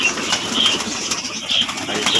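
Pigeons stir inside their coop, giving soft bursts of fluttering wings mixed with short, faint chirpy calls over a rustling background.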